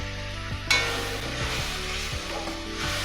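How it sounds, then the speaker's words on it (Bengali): Spice paste of ground turmeric and a splash of water frying in a pan for a Bengali fish-head muri ghonto, a steady sizzle with a sudden louder burst of hissing, and scraping stirs throughout. "হলুদ গুঁড়ো দিচ্ছি, সামনে একটু জল দিয়ে মশলাটা কষে নেবো।"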